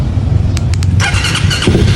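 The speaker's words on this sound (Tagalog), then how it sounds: "kahit walang susi yan, mapapa-start natin yung motor" A Raider Fi motorcycle engine whirs and squeals as it starts by keyless push-button, with a few short clicks before it catches, over a loud low rumble close by.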